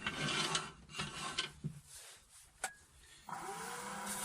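A homemade disc sander mounted on a lathe grinds against the face of a workpiece, a continuous rough rasping with a mechanical whir. It dips briefly in the middle and then resumes steadily, recorded close and fairly quiet, with no one talking.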